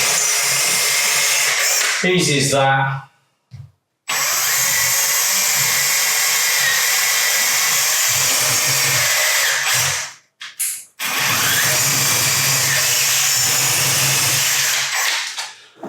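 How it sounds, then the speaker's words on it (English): A power drill whines loudly in long sustained bursts drilling into a wall, stopping briefly twice, with a short spoken remark between runs. "we're going to drill through these"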